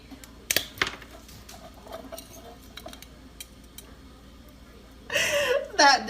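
Two metal spoons clink and scrape against a casserole dish while crushing food, a few sharp taps early on, then a louder burst of clattering near the end, with someone talking throughout.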